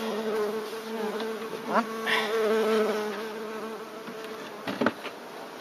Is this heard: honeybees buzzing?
yes